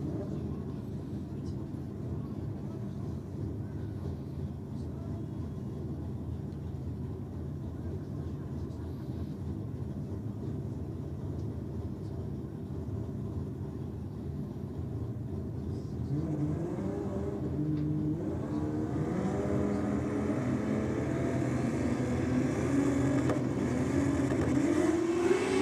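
A Toyota Supra drag race car sits at the line at a drag racing event, its engine a low rumble that slowly builds, rising into a climbing rev toward the end, heard amid the general noise of the track.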